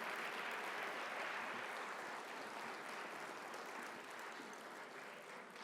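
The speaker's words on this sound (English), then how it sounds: "how about another round of applause for the Stars of the North" A graduation ceremony crowd applauds a departing cultural drumming group with dense, sustained clapping that sounds somewhat distant and soft, easing off slightly toward the end with no voices.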